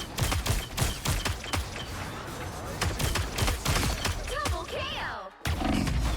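Rapid gunfire in the hero shooter Blade Eternity, dense bursts of shots and impacts piling over one another at close range, with a short dropout near the end before the action resumes.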